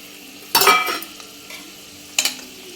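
Fenugreek, mustard seeds and cumin hit hot oil in two sharp, close bursts of sizzling and spattering, with stirring scrapes between them and a low hum underneath.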